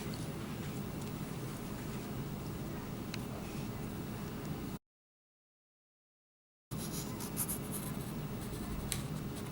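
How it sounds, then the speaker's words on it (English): A line drawn by hand during a saw-use demonstration gives a steady, dry scratching close by. It runs continuously, cuts out for about two seconds, then resumes. "Now I drew a crooked line, an angle line"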